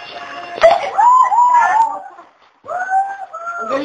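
Children imitate cats, making drawn-out, wavering meow sounds in two bursts with a brief pause between them, close and fairly loud.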